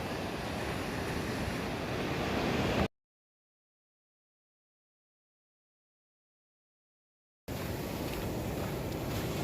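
Ocean waves wash onto a beach at low tide, a steady broadband surf roar with wind across the microphone, cut off by a stretch of total silence midway before the surf returns.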